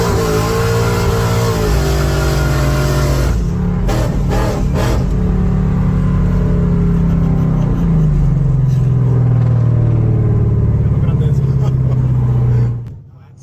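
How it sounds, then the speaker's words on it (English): A Hyundai Genesis Coupe with a swapped Ford Coyote V8 drives on the road, its engine droning loudly through a gear change, then revving up in a rising pull before cutting off, heard from inside with occasional talk. "So here we are driving around the Genesis Coupe with the Coyote engine, just like if it was a daily car"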